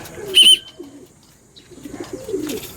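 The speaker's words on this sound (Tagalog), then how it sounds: "Nasa loob na mga kalapatids." Racing pigeons in a loft give soft, low cooing calls with a sharp chirp near the start, close by and fairly faint, in short bursts over a quiet background.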